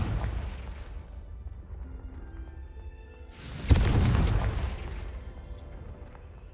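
The Confringo spell in Hogwarts Legacy bursts with a sudden booming explosion midway, rising out of quieter rumbling game ambience and decaying over about a second.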